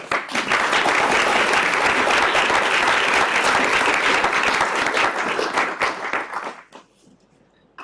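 An audience applauds to welcome a lecturer at a talk on Christianity, a full room of sustained clapping that holds steady for several seconds before quickly tapering off into quiet.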